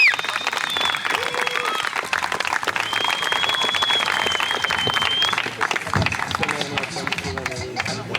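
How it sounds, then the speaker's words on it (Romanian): A crowd applauds junior riders at the Mogoșa Downhill Challenge 2016 award ceremony outdoors, steady loud clapping with whistles and cheers threaded through and some talk in the background. "Aplauze pentru juniori!"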